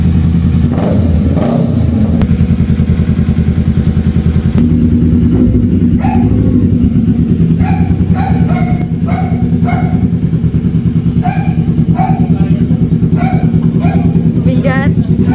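A Kawasaki Z650 sport motorcycle engine runs loud and close, with revving throughout and a rougher burst early on, while someone talks over it.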